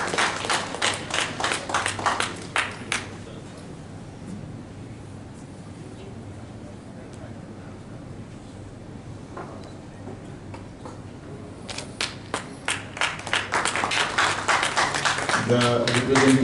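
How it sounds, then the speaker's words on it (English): An audience claps at an award ceremony for an auto parts manufacturing company in Pakistan. Scattered, moderately loud clapping opens the moment and fades out, then returns after a quiet stretch and builds again toward the end. "Darson Industries, a big applause for them."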